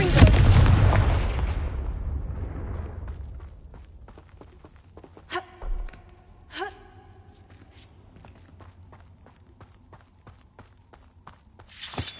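The Confringo fire-blast spell cast in Hogwarts Legacy bursts out as a heavy booming blast that rumbles and fades over a few seconds, followed by scattered thuds, crackles and a later sharp burst, with no talk.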